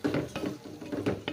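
A spoon stirring food in a metal cooking pot, a quick run of repeated scraping and clinking strokes at a steady rhythm, close and clear with no voice.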